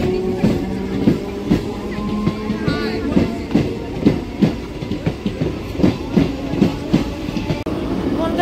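A commuter train pulls into a misty station platform, its wheels giving a loud, regular clickety-clack over rail joints with a continuous rumble underneath.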